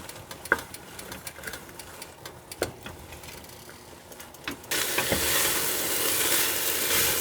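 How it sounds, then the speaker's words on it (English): Swiss chard sautéing with onions in a pan gives a steady close sizzle, dotted with sharp stirring clicks and taps, then jumps abruptly louder and hissier in the last few seconds. "I'm going to saute that for about 2 to 3 minutes until it's wilted"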